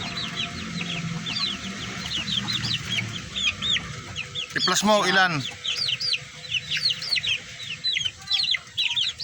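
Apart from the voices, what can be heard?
chickens clucking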